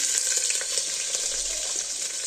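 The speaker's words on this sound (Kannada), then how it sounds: "ಸ್ವಲ್ಪ ಜೀರಿಗೆ ಹಾಕಿ, ಆಮೇಲೆ ನೆಕ್ಸ್ಟ್ ಸ್ವಲ್ಪ ಕರಿಬೇವು, ಆಮೇಲೆ ಹಸಿಮೆಣಸಿನ್ಕಾಯಿ ಹಾಕ್ತಾಯಿದ್ದೀನಿ" Cumin seeds, curry leaves and green chillies fry in hot oil in a pan for a palav, giving a steady, close crackling sizzle with no voices.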